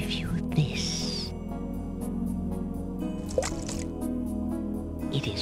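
Water from a sacred pool drips in King's Quest VI, a few soft liquid plops and squishes over a steady musical drone, with no voices.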